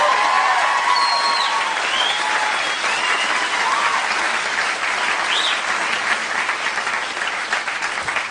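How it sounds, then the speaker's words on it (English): A comedy club audience gives the other acts a big round of applause, loud sustained clapping mixed with cheers and whistles that carries on for several seconds before slowly thinning. "can you please, big round of applause for all the other acts you've seen tonight"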